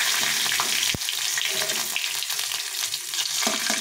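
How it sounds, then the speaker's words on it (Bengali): Dried red chilies, white cumin seeds and bay leaves frying in hot oil in a wok, with a loud close crackle and spitting, marked by one sharp knock and a few clinks of a utensil. "তেলটা গরম হয়ে গেছে, এখন একটু শুকনো লঙ্কা, সাদা জিরে আর দুটো তেজপাতা দিয়ে দেবো।"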